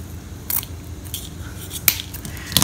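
Scissors snip through twine while a Dollar Tree fall scarecrow wreath is being made, three short, crisp cuts spaced about a second apart over a soft background hiss.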